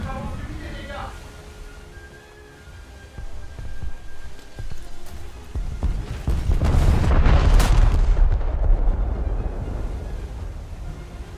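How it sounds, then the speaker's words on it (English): Naval gunfire from the battleship Mutsu in a warship game, deep booming blasts that swell into a heavy rumble, heard under someone talking and in-game voice callouts. "that's the Mutsu right shooting me"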